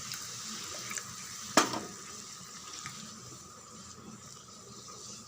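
A pot of prawn gravy with added water is stirred over a low flame, with faint wet swirling, soft liquid sounds and one sharp clink of a utensil against the pot early on.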